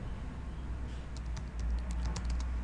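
Quick bursts of typing on a Windows laptop keyboard, light clicky keystrokes close up in a quiet room, clustered in a short run midway.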